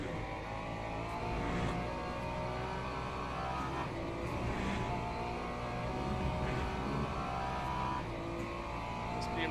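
BMW race car engine in the Le Mans Ultimate racing game at Imola, a steady high droning howl held at constant loudness throughout, with faint shifts in pitch.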